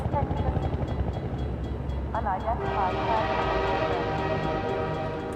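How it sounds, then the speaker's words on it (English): A train passes in Half-Life 2 Episode Two, a loud rumbling, clattering rush with rising whistle-like tones midway, and a voice speaks over part of it. "Come on, Mr. Train."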